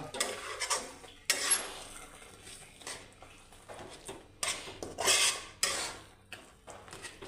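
Khoya mixture for barfi is stirred in a pan with a spoon, giving repeated scraping and clinking strokes against the metal that come close and at a moderate level, with brief pauses between them.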